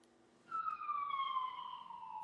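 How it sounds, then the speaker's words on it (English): Police sirens outside wail as a single clear descending tone that rises out of quiet room ambience, moderately distant and steady for about two seconds. "There's a lot of sirens next to my place too"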